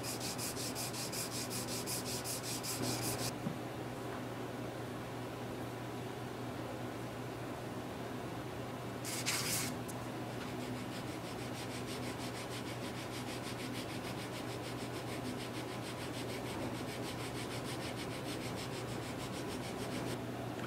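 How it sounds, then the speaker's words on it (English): Sandpaper rubs by hand along the edge of a wooden tenor guitar top, a continuous close-up scratchy hiss over a steady low workshop hum, broken by a couple of brief, sharper bursts. "I'll just sand that by hand"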